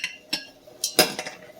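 Metal bracelet dropped into a pot of simmering homemade metal-cleaning solution on a lowered flame, giving a few sharp clinks against the pot with a brief splash, close and fairly loud with no talking.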